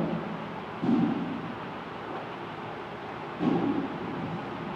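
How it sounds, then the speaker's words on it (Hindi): Steady rain with two deep rolls of thunder rumbling in the distance, each swelling briefly before fading back into the hiss of rainfall. "बारिश"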